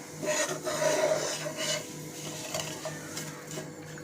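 Flour and spices being sautéed in a pan for a Sindhi-style masala, heard as a steady, close rasping and scraping of stirring that carries on without pause.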